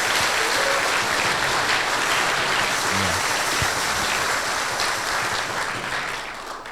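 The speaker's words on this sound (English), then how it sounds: "A big applause." An audience at a conference opening session applauds the organizing team with steady, full-bodied clapping that fills the room and tapers slightly at the close.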